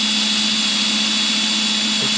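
A power driver sinks a self-drilling fastener into material under steady downward pressure, giving a continuous even motor whine with a steady hum throughout and no speech.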